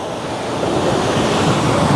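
Ocean waves surging onto an eroding shoreline in Ampara district, Sri Lanka, a continuous loud rushing roar of surf with wind noise, steady and close throughout with no pauses.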